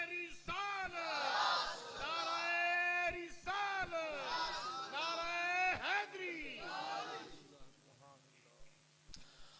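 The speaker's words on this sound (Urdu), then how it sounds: "یہ لبیک یا رسول اللہ کا جب نعرہ لگتا ہے تو لوگ کیسے اش کر اٹھتے ہیں، جھوم جھوم کر نعرے کا جواب دیتے ہیں" A crowd at a religious gathering chants back the Labbaik Ya Rasool Allah slogan in loud, rhythmic surges of massed voices, swelling in repeated waves before fading toward the end.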